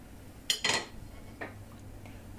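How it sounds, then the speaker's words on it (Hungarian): A utensil clinks and scrapes against a pot while plum jam is stirred smooth for homemade vegan sausage, giving two close knocks near the start and a softer scrape later over a quiet background. "Ezt szépen simára keverjük el."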